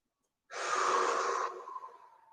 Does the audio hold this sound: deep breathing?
yes